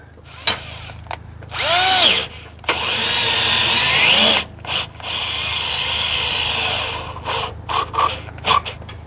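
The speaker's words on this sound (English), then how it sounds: "And we'll get them tightened up." Bursts of a power tool spinning and tightening bolts on a Ford F250 OEM camper package install, two separate runs of a few seconds each with quieter workshop noise between.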